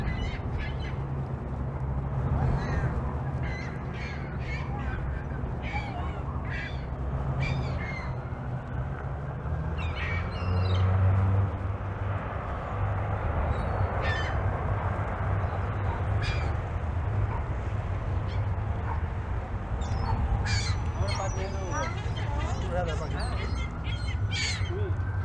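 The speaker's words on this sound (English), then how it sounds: "Feeding the gulls some hickory sticks." Gulls being fed hickory sticks on the Toronto waterfront call out in frequent harsh squawks and caws, some close and loud, over steady wind and city ambience, with a person talking at times.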